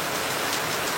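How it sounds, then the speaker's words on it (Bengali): Heavy rain pouring steadily in Charkhanpur, Rajshahi, a dense, even hiss of drops on surfaces with no break, fairly loud and heard alone without voices. "আজ আর বৃষ্টি থামছেই না"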